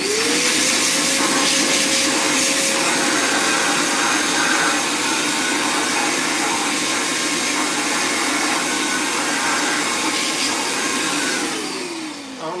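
A vacuum cleaner sucks up metal shavings from a Gen 1 Coyote engine, with a loud, steady whooshing roar and a pitch that rises at the start and falls as it shuts off near the end.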